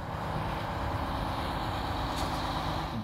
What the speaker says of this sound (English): Take, for instance, this diesel motor car